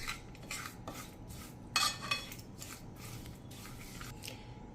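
Ingredients for sweet mango pickle are stirred in a bowl with a spoon, giving a series of light metallic clinks and scrapes in an irregular rhythm, close and fairly quiet, with one louder clatter midway.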